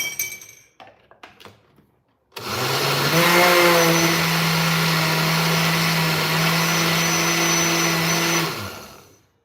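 A kitchen blender whirls a pineapple and yogurt piña colada smoothie, starting abruptly after a few soft clinks and running as a loud steady whine for about six seconds before stopping.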